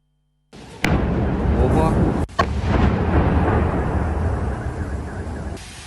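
A loud, deep explosion from a Russian missile attack on Dnipro, Ukraine, booms after a moment of silence, followed by a second sharp blast and a long rumbling roar that slowly fades.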